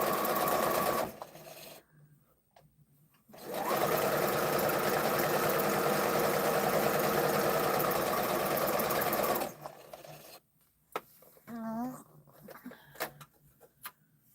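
A home sewing machine runs in long steady bursts while stitching an arrowhead quilt block, loud and continuous for several seconds, then stops; a child's babbling is heard briefly near the end.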